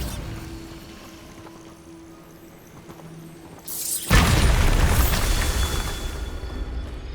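In the Hogwarts Legacy video game, a Bombarda spell goes off as a sudden loud blast that swells into a sustained rumbling roar after a quieter stretch of ambient game sound.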